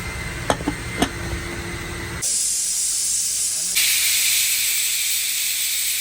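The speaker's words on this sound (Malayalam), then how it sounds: "അങ്ങനെ ഏഴ് വിസിലിന് ശേഷം നമ്മൾ കുക്കർ ഒന്ന് ഓപ്പൺ ചെയ്ത് നോക്കാം" A pressure cooker of beef chilli vents steam after seven whistles, with a few light clicks followed by a loud, continuous hiss that surges even stronger partway through and keeps going to the end.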